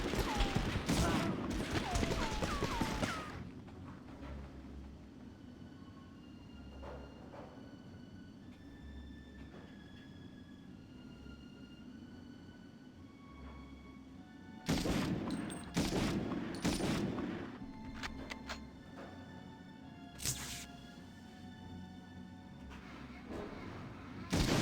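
Bursts of gunfire in the Medal of Honor video game, sharp rattling volleys at the start and again in clusters later, separated by a quieter stretch of low rumbling ambience.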